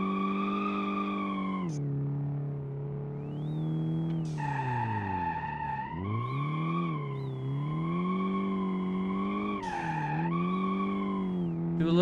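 Car drifting through gentle slides in BeamNG on a winding mountain road, with a loud, continuous engine note rising and falling and tires squealing and skidding throughout, close and alone with no talk.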